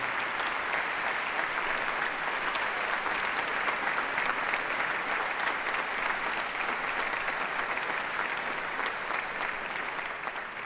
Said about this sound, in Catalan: Demane un fort aplaudiment per a ell.